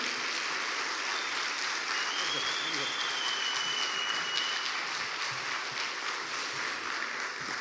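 Audience applause at an international recognition ceremony for victims, steady, even clapping throughout with a faint whistle-like tone partway through.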